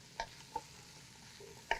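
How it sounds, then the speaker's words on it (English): Vegetables with Italian seasoning are stirred in a pan: three sharp spoon scrapes and clinks sound over a faint, low sizzle. "Let's stir that around."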